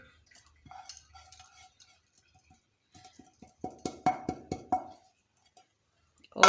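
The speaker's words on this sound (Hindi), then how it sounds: "अब इस बर्तन में इसको निकाल देंगे" Finely chopped ingredients for a homemade cracked-heel foot remedy scraped from a cutting board into a metal bowl: light scattered scrapes, then a run of five sharp rhythmic clinks and taps, close and clear with no talk.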